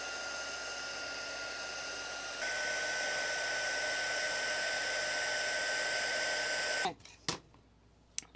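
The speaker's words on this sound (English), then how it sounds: "Now we got our heat gun." A heat gun blasts steadily over glitter embossing powder on a piece of cork, a loud continuous whirring roar that shifts pitch slightly partway through, then cuts off, leaving a few faint clicks and handling noises.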